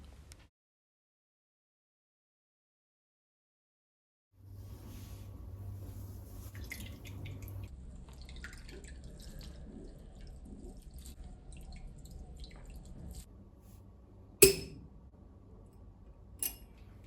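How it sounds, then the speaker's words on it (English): Walnut milk drips and trickles while strained through a nut bag or muslin cloth, a faint steady liquid patter after a brief silence, with a couple of sharper splashy drops near the end. "To get the milk really smooth, we must strain it through a nut bag or a muslin cloth."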